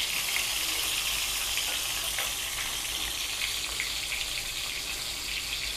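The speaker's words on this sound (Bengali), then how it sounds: "প্রথমে একটু জোরে আঁচ দিয়ে ভেজে নেব, তারপরে একটু ধিমে আঁচে করে দেবো" Brinjal pieces fry in a pan over high heat, giving a steady, dense sizzling hiss that stays loud and even throughout, with no voices.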